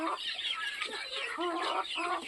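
A rooster at a poultry show in Ovidiopol clucks repeatedly, close and steady, a continuous run of throaty clucks with no pauses.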